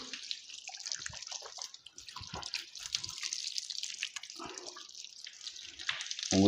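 Water from a tap splashes and drips steadily while feet are washed during wudu, a continuous close trickling and pattering with no talking.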